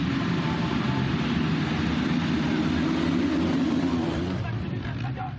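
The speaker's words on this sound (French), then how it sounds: "Avec le vrombissement de tous ces moteurs, on ne s'entend même plus penser." Many motocross motorcycle engines roar together at the starting line of a race, a loud, dense and sustained drone that stays constant throughout.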